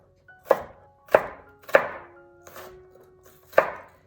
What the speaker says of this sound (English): And then I just chop it.